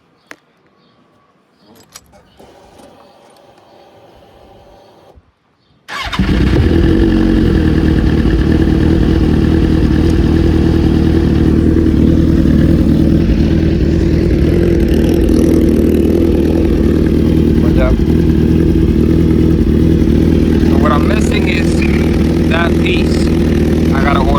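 After a few seconds of quiet handling clicks, a motorcycle running without a Power Commander fuel module fires up and settles into a loud, steady, close engine rumble that continues without a break.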